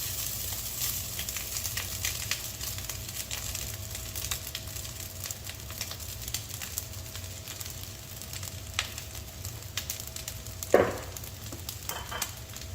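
Boiled rice sizzles in a hot pan for Pakistani-style egg fried rice, a steady frying hiss with occasional stirring scrapes and one louder clatter near the end.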